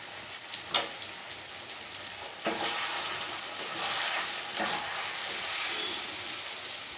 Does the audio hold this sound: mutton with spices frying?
yes